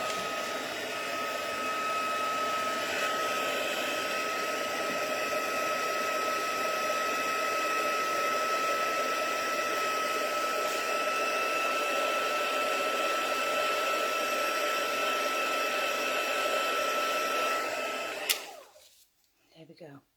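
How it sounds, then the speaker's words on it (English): A crafting heat tool blows hot air in a loud, continuous fan roar with a steady whine, running close for about eighteen seconds before cutting off abruptly. "Let's grab our heat tool."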